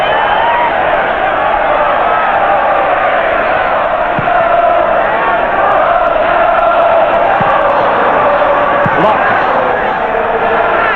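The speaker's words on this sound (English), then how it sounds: "Applause for Rice's coolness." Football crowd at a 1973 FA Cup sixth-round match, a dense continuous roar of applause and noise filling the stadium, steady and loud throughout with a few sharp claps or thuds poking through.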